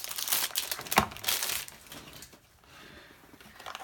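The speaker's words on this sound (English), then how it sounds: "you don't want to watch me use this X-Acto knife to open this" A craft knife slices open a package, giving crinkling, tearing bursts of wrapping that peak sharply near the start and then fade into quieter rustling, close and without talk.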